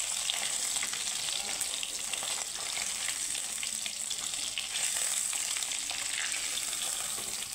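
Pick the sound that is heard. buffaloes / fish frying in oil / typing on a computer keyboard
fish frying in oil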